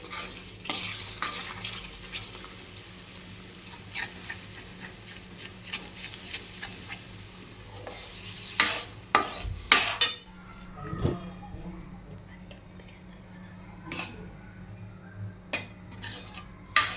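A spoon stirs jaggery syrup with a little milk in a pan for sesame laddoos, giving faint, irregular scraping and clinking taps with a soft bubbling background, plus a few sharper knocks.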